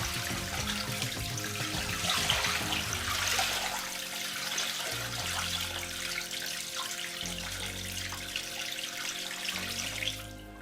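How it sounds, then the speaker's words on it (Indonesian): Water pours steadily out of a plastic fish packing bag holding a new goldfish, a continuous close splashing gush lasting several seconds before tapering slightly at the end. "tinggal kita kurangin aja biar nggak tumpah-tumpah airnya"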